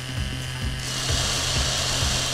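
A chainsaw in the video game Serious Sam HD cuts down trees, with a loud, constant buzzing motor and repeated rhythmic rasping bites into wood, heard without speech.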